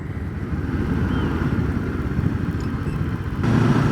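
A motorcycle ridden along a winding country road near a village, its engine droning steadily and loud with wind rush, swelling a little near the end.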